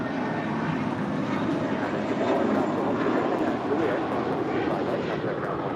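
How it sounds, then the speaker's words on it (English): American Airlines A321 departing LAX for Boston: a steady, broad jet engine roar holds at a constant loud level throughout, with faint radio chatter mixed in. "This departure is American 1632, departing to Boston on an A321."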